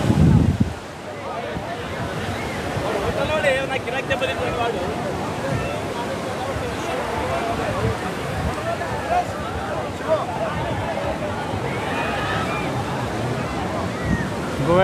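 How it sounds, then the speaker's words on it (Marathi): Sea surf rolls steadily onto Calangute Beach in Goa, a continuous wash of breaking waves mixed with gusty wind buffeting the microphone, with no clear breaks in the roar. "गोव्यातला एकदम स्वच्छ समुद्रकिनारा म्हणजेच हा कलंगूटचा समुद्रकिनारा आहे"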